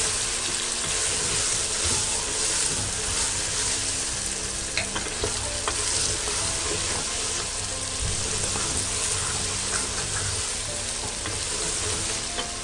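Chana dal fries in a pan as it is stirred, giving a dense, steady sizzle with small scraping clicks throughout. The sound is loud and close, and no one speaks.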